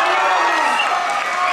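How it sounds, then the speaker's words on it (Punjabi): An audience at the Miss USA Panjaban 2010 competition claps for children on stage, a dense, even burst of applause with some crowd noise that holds for a second and a half. "ਜ਼ੋਰਦਾਰ ਤਾੜੀਆਂ ਬੱਚੇ"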